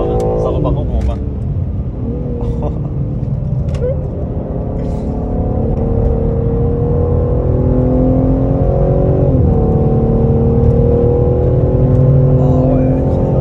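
BMW M3 Touring accelerating hard on a race track, heard from inside the car: a loud engine roar climbing through the gears with rising revving tones and shift breaks, while someone talks excitedly over it.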